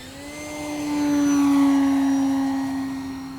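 FMS Ranger 1800mm RC sport plane doing an extreme flat turn on full rudder, its electric motor drone holding a steady whine that swells and fades as it passes, with no talk.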